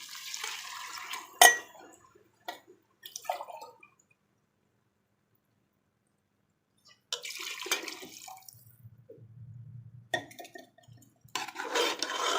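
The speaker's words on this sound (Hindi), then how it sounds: "अब हम इसमें पानी डाल देंगे।" Water is poured from a glass into a cooking pot of potato pulao in several short splashing bursts, with a long quiet gap between them and a faint clink of the pot.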